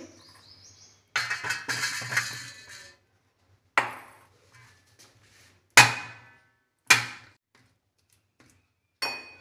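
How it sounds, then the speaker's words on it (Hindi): Boiled taro root (arbi) mashed in a vessel, giving a handful of sharp, separate knocks and clanks spaced a second or two apart, each fading quickly, with a faint scrape between them. "बॉयल हो चुकी है अब हम इसे मैश करेंगे"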